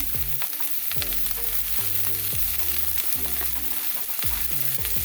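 Onion and scallion fry in hot oil, a steady loud sizzle filling the whole stretch, with stirring knocks and scrapes of a utensil against the pan recurring every second or so.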